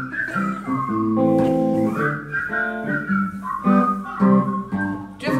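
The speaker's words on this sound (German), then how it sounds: "Nur die Männer. 1, 2, 3, pfeifen." A group of men whistle together on cue, a sustained, wavering tune with several pitches layered at once, loud and close, continuing throughout with brief dips.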